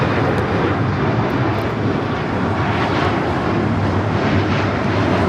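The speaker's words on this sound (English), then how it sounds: "1430 taking off to Puerto Vallarta on the MAX 8" An Alaska Airlines Boeing 737 MAX 8 takes off at LAX with a loud, steady jet roar. The broadband rumble holds evenly and stays strong throughout, with no voices.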